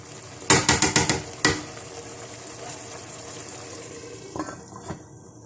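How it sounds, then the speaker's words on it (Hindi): Rice boils in a pot for shami kabab pulao, giving a steady bubbling hiss; a quick burst of metallic clinks from utensils opens the sequence, with a couple of softer knocks near the end. "अब ये देखें बहुत अच्छा सा उबाल आ चुका है चावलों के अंदर।"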